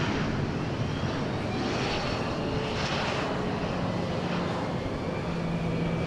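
A Boeing 737-700 airliner at Dallas Love Field roars steadily and loudly throughout, a broad continuous engine rumble with no talk over it.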